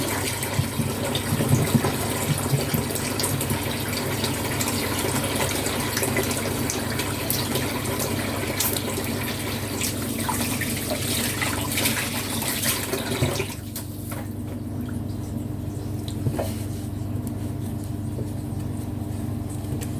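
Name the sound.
washing hands under kitchen tap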